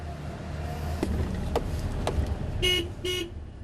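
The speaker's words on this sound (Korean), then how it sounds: "경적을 올려보지만 꼼짝도 않는데요" A car horn at a seawall construction site gives two short honks near the end, above a steady low rumble of engines and site activity. A few brief thumps like doors are also heard.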